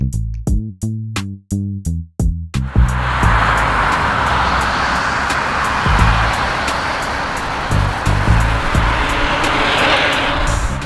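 A converted bicycle with a 1500W mid-drive motor first gives several sharp clicks and tones, then rolls off as a steady, loud rush of motor whine and wind noise with bumps from the road.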